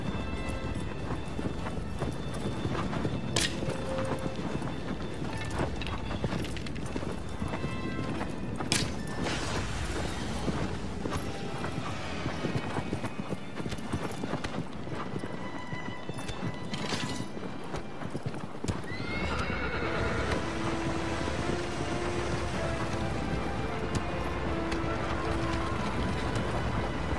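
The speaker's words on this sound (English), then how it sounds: "Come here, you stupid horse. Stop running away." Horse hooves clip-clop at a gallop through Shadow of the Colossus gameplay, with occasional neighs and whinnies over a steady backdrop of wind and ambient game sound.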